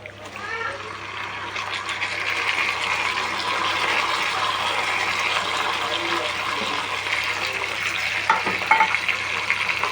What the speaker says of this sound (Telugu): వేగాక ఇప్పుడు తిరుమతిలో గోంగూర వేసుకుందామండి.